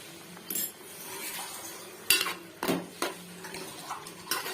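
Spoon scraping and clinking against a pan while mushroom curry is stirred, several irregular metallic knocks over a quiet background.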